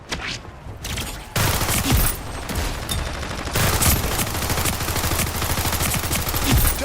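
Hand cannon gunfire in the video game Splitgate 2, rapid repeated shots rattling in dense bursts over busy in-game combat noise, loud and close, with brief lulls between volleys.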